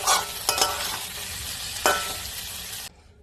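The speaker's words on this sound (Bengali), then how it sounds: "দেখো এঁচোড়টাকে আমি সব মশলার সঙ্গে খুব ভালো করে কষিয়ে নিচ্ছি" Jackfruit and potato being stirred and fried with spices in a pan, a broad steady sizzle with a few sharp scraping stirs near the start and again mid-way, then an abrupt cutoff.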